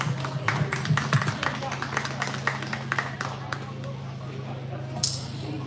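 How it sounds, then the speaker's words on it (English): Applause for exhibitors at a junior livestock show's sheep and goat classes, a scatter of hand claps from a modest crowd that thins out over several seconds, with a steady low hum underneath. "Go ahead and give these exhibitors a round of applause."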